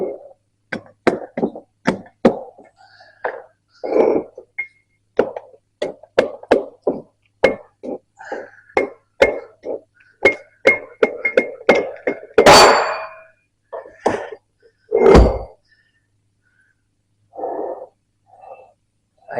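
Repeated hard thunks and knocks as a main cartridge is bumped out of a Vickers vane pump, irregular close impacts through most of the span with a couple of louder scraping bursts, no talk.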